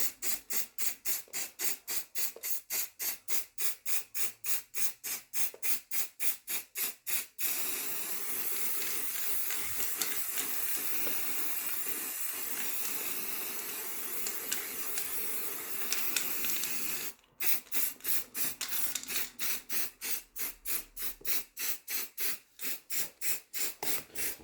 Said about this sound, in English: So I'm going to spray this side, and then turn it over, then spray the other side of them.